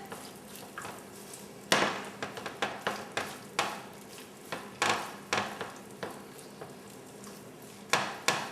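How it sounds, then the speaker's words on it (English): A medium-sized cut-up onion sautéing in a pan, with a soft background sizzle broken by repeated sharp scrapes and taps of a utensil against the pan, close and moderately quiet. "We're going to add the onions, cut up onions, about a medium-sized onion. And saute this for about 5 minutes"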